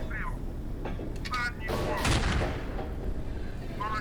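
A KV-1E tank's main gun fires at a Panzer III in the Steel Fury game, a heavy boom swelling midway over a continuous engine rumble, with brief radio-like voice chatter before and after.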